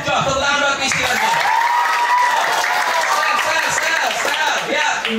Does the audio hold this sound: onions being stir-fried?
no